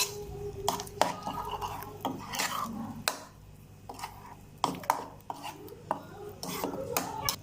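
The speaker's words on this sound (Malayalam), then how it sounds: "ബാക്കി തൈര് നമ്മൾ ഈ മിക്സറിലോട്ട് ആഡ് ചെയ്യുക. നല്ല മിക്സ് ചെയ്യുക." Curd being mixed into gooseberry pachadi with a spoon, irregular sharp clinks and scrapes of the spoon against the bowl at close range, separated by quieter pauses.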